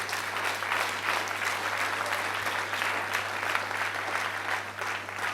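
Congregation at a church question-and-answer service breaks into sustained, dense clapping that holds steady and loud throughout, a continuous wash of many hands with a faint crowd murmur and a low hum beneath.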